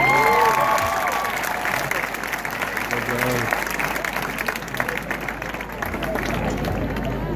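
Audience applause at a music recording session: steady, dense clapping from a crowd throughout, with some voices and cheering mixed in.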